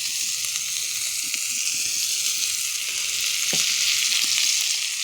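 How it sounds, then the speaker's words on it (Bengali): Onion fries in oil with a pinch of salt, giving an even, continuous close sizzle and hiss with faint bubbling and one brief knock, no talking. "পেঁয়াজটা ভেজে নেব।"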